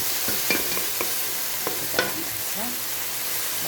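Vegetables sautéing in a pan for Filipino pinakbet with shrimp about to be added, a soft continuous sizzle broken by a few scraping stirs of the utensil, no one speaking.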